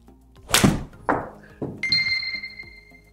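A golf club strikes a ball in a single solid thunk, followed by a couple of softer knocks and a steady electronic beep from an impact-feedback swing analyser.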